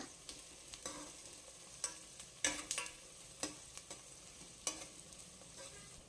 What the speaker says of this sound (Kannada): ಹಾಗೆ ಕಟ್ ಮಾಡಿಟ್ಟಿರೋ ಹಸಿಮೆಣ್ಸಿನ್ಕಾಯಿ ಸಹ ಸೇರಿಸ್ತಾ ಇದ್ದೀನಿ ಇದನ್ನು ಮಿಕ್ಸ್ ಮಾಡಿ ಒಂದು ನಿಮಿಷ ಬಾಡಿಸ್ಕೋಬೇಕು